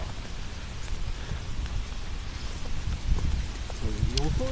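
Steady heavy rain hisses across the whole clip at Honmoku Sancho Park, with low rumbling gusts underneath and a brief voice near the end.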